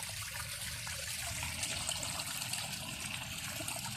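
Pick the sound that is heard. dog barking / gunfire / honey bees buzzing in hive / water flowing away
water flowing away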